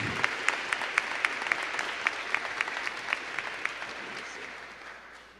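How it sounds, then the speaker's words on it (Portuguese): Congregation applause inside a church, a steady wash of many hands clapping that holds for several seconds with crisp individual claps standing out, then gradually thins near the end. "Uma salva de palmas bem bonita para a palavra de Deus que foi proclamada"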